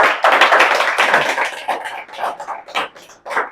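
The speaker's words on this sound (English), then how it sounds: "Huge round of applause." Students applaud at a farewell for a morning batch in an English class, a burst of clapping from a modest group that comes in uneven waves with short pauses between them.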